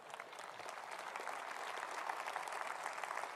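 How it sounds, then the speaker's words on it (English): An audience at a party political conference applauds, a sustained, fairly faint wash of many hands clapping together that holds steady throughout without any speech. "That applause for these great men."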